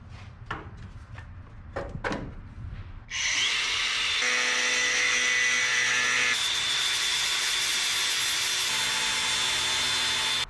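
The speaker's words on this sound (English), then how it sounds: "This is the best fan shroud trimmer I have." A power tool trims the plastic fan shroud on a U-Haul mini truck, kicking in loudly after a few sharp clicks and knocks, then running steadily and continuously close by, with a slight shift in pitch partway through.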